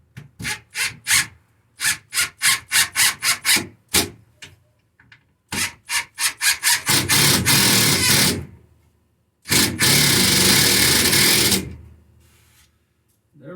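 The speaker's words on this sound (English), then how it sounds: "So let's set that up on there and get it screwed down." A power driver drives screws to fasten a shelf onto a wooden workbench. Rapid rhythmic bursts of clicking ratchet pulses are followed by two longer, loud continuous whirring runs with short pauses between. The sound is close and there is no talking.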